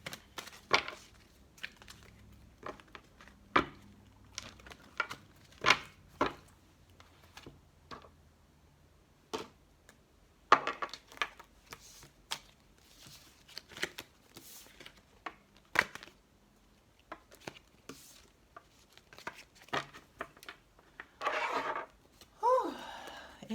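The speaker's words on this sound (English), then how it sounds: "let me go ahead and do this push shuffle" Tarot cards being push-shuffled by hand, a run of crisp, irregular riffling snaps and soft slides close up, with a longer rustling burst near the end.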